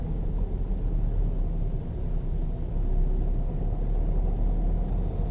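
A learner driver's car engine pulls steadily as the clutch comes up and the throttle opens again, a continuous low rumble with road noise, fairly loud and even throughout, with no talking.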